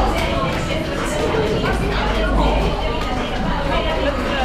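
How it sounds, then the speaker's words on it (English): Crowd chatter at exit 11 of Gangnam Station in Seoul: a steady, dense babble of many voices close around, with general street noise underneath. "There's always a huge crowd like this."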